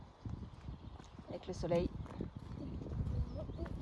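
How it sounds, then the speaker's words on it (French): Horses pass by on a village road, their hooves clip-clopping in an uneven rhythm at moderate distance, with a person speaking French over them outdoors. "Ah, il y a des chevaux qui passent là."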